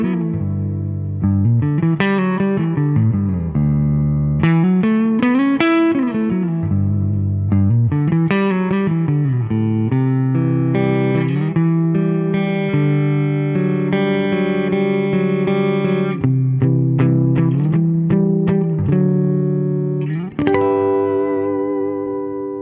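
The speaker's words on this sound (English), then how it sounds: "starting with the neck pickup in the full humbucker mode" A heavily effected electric guitar on its neck pickup in full humbucker mode, warm and thick, plays melodic lines and sustained chords, drenched in chorus and reverb, with no voices.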